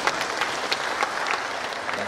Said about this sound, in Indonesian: Tepuk tangan saya buat Pak Gubernur